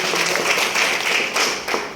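Enthusiastic applause from an audience at a motivational talk on success, a dense steady patter of clapping that swells and dips slightly over two seconds.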